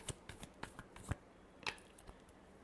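Tarot cards shuffled by hand, a quiet sequence of crisp riffles and soft flicks spaced irregularly, close and faint with no talking.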